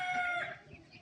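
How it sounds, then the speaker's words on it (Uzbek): Decorative ornamental chickens heard up close, a bright sustained crow-like call fading after a moment into softer clucking and farmyard noise, no talking. "Ham chiroyli, ham bu dekorativ tovuq."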